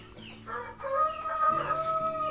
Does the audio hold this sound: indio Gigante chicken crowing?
yes